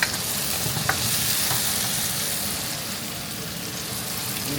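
Ingredients sautéing in a pan, a continuous loud sizzle with occasional stirring clicks, close and steady with no talk.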